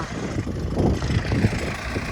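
A low, steady tractor engine rumble idles nearby, continuous and unchanging.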